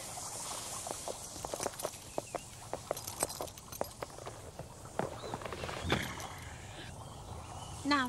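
Horse hooves clip-clop in a steady run of sharp, evenly spaced knocks on a hard surface, fairly close and moderately loud, with a brief burst of louder noise near the end.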